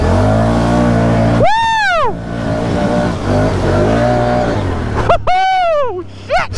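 A four-wheeler ATV engine revs hard in low gear with tires spinning, the strong harmonic whine swooping up and down in two loud bursts over a steady close idle rumble.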